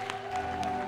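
Audience applause for the fifteen remaining candidates at a televised talent competition, a steady wash of clapping from a crowd that holds for under a second with a faint tonal hum underneath.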